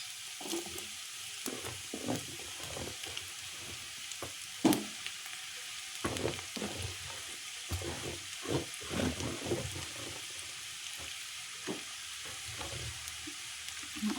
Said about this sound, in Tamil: உருளைக்கிழங்கு சேர்த்து நல்லா கிளறி விட்டுக்கலாம்